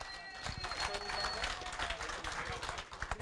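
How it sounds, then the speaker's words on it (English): A crowd claps for an anglers' team bringing fish to a sport fishing weigh-in, a dense, steady patter of applause mixed with murmuring voices and chatter. "let's give them a warm round of applause"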